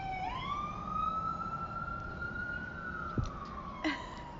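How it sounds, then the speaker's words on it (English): An ambulance siren passes by, a single sustained wailing tone that rises, holds steady, then drops in pitch as it recedes, loud over a low rumble of traffic. "Oh, let me dull the ambulance."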